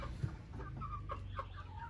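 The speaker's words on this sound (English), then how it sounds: "They haven't eaten yet. These are our meat birds." Meat chickens cluck in a farmyard before feeding, with several short clucks and calls spread across the clip at close to moderate range and no talking.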